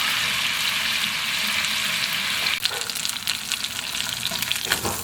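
Meat frying in a pan, cooked through until tender and well coloured, with a steady crackling sizzle that grows busier and brighter in the second half as it is stirred, with no talk.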